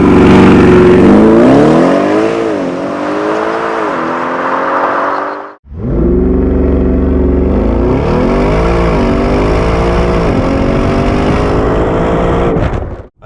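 An Audi RS6 Performance wagon from 2017 accelerates hard from inside the cabin, its loud engine climbing through rising pitch sweeps with gear changes, pausing briefly at about the midpoint, then roaring up again through more shifts.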